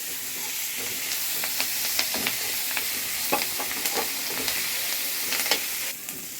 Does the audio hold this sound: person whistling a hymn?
no